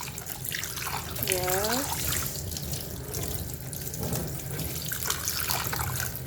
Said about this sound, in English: You rinse the tray. Rinse it very good, very well.